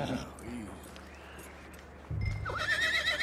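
A horse in the Red Dead Redemption 2 video game whinnies loudly and close at the start, followed by hoof clip-clops, with a voice heard faintly alongside.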